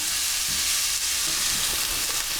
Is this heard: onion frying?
yes